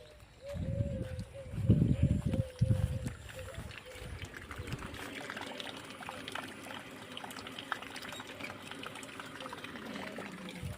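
Water running at a Shiva temple, at first a loud close gush that pours for a few seconds, then thinning to a faint trickle over quiet background noise.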